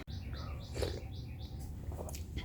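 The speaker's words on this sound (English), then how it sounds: "The birds sound lovely." Birds chirp outside in short, repeated high calls, fairly faint, over a steady low background hum.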